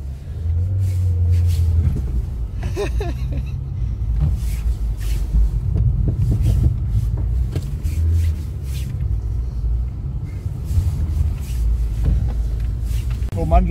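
A VW Polo 86C engine revs hard in first gear while drifting, a loud, rough low rumble that rises and falls in waves with wind buffeting, and people talk over it throughout.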